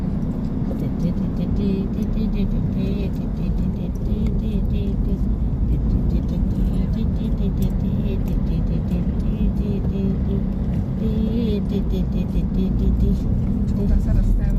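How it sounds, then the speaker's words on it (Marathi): A small truck carrying onions and potatoes rumbles along a narrow road in Konkan, its steady engine drone continuous and fairly loud throughout with no clear pass-by. "कांदे बटाट्याची गाडी आहे."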